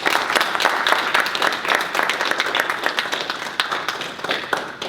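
Audience applause for a panelist at a forum on Black politics, a full sustained round of clapping from a crowd, loud and even, gradually easing near the close.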